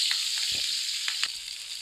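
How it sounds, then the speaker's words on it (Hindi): Cumin seeds and chopped green chillies fry in hot oil as a tadka for haleem, giving a soft, steady sizzle with a few light stirring clinks in a quiet kitchen. "इसको हल्का सा करेंगे फ्राई।"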